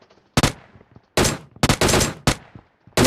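Gunfire in PUBG Mobile comes in several loud, sharp bursts of rapid shots, separated by brief quiet gaps and faint background game sounds.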